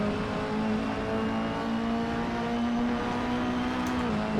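Lowered Mini Cooper under full throttle, a steady engine drone with a sustained harmonic tone holding level throughout, loud and close with no speech.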